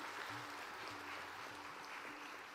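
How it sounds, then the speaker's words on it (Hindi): Audience applause at a National Girl Child Day event launching the PANKH campaign, steady, fairly distant clapping that holds evenly throughout with no break and no talk. "आप सबसे निवेदन है कि ताली बजा के इसका स्वागत करें।"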